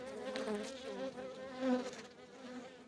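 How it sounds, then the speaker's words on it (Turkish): Queenless honeybees in a queen-rearing apiary buzzing agitatedly as they attack, a close, wavering, pulsing drone that swells and fades, with no talking. "anasız olanlar çok saldırıyor şu anda. Duyabiliyorsunuz mutlaka"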